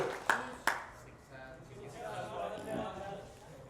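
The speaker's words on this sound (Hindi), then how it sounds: "ताली बजाओ, सही बोला है" Two quick hand claps from a small group in a classroom lesson, followed by an indistinct murmur of voices.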